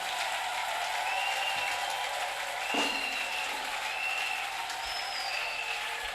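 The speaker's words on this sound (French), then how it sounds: "please rise and clap for the Lord" A church congregation applauds steadily throughout during the consecration service of a reverend pastor, a dense and even wash of clapping at moderate level with no pauses or talk over it.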